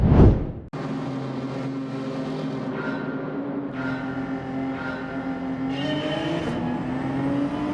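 Race car engine in Gran Turismo 7, a steady loud drone with held revs that rise slightly and shift gear a few times, close and continuous with no talk.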